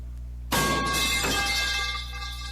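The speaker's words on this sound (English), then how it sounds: "a loud scraping of metal against the lid" After a brief hum, a harsh metallic scrape bursts in loudly and grinds on for over a second with ringing overtones before fading.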